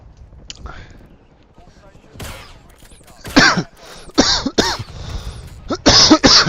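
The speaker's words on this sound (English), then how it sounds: "I guess the cough came after the sneeze this time." A person coughing after sneezing: several harsh, bursting coughs and throat-clearing sounds in uneven succession, growing louder and closer toward the end, with breathy noises in between.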